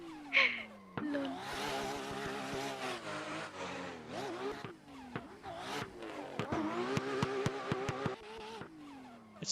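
Loud car engine in a drift video game screams through long revs and rapid throttle blips, with squealing tires and a whirring drone, continuous and close without any speech.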